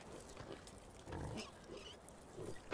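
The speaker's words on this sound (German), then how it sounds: "Hier steht ein Schwein." Pig grunting in the farming video game Landwirtschafts-Simulator 15, a few low, faint snorting grunts in short bursts over quiet game background.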